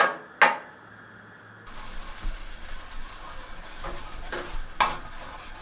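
Breadcrumbs fry in melted butter in a pan, giving a soft, close sizzle with scraping stir strokes and a couple of sharp clinks of a utensil against the pan.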